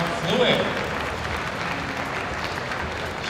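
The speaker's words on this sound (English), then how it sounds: "A round of applause for Ong Shin Choi from Fluid." Audience applause at a national coffee championship finals in Singapore, a brief, moderate burst of clapping from the crowd that trails off, with a voice over it.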